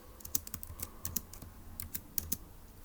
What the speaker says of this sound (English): let's go ahead and type that up in our notes in section D